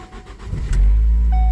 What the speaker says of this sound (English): I'm going to go ahead and start the engine